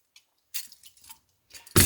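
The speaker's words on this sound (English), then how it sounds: "On the bottom, these nice 3 legs that fold out." Three metal legs folding out from the base of a compact multi-fuel camping stove, heard as a few soft clicks and scrapes ending in a louder close metallic clack, with no talk.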